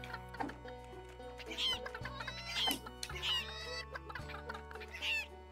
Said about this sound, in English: Get up in there, chicken.